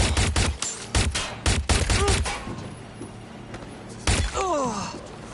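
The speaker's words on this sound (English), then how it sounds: "They're shooting!" Gunfire in the video game Watch Dogs: Legion comes as rapid bursts of sharp, loud shots in quick succession, with a grunting voice in between and another volley near the end.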